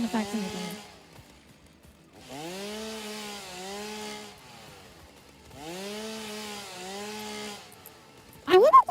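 A chainsaw sound effect from the factory-building game Satisfactory, with two long, whining revving bursts of about two seconds each, separated by quiet pauses, plus a brief voice at the very end.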